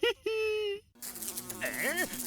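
Cartoon housefly buzzing from a 3D animated kids' comedy, a loud steady whine with a brief gap, then a second buzz that swoops and bends in pitch, near and clear.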